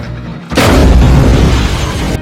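A car doused with gasoline catches fire in a film scene, and a sudden loud boom breaks out after a quiet half second before settling into a dense, roaring rumble.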